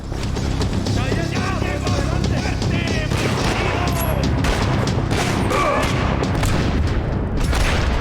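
Dense gunfire and machine-gun bursts fill a Max Payne 3 firefight, loud and continuous, with booming impacts mixed in throughout.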